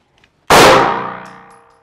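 A single loud metallic clang of a gunshot striking a steel target, sharp and close, ringing out and fading over about a second.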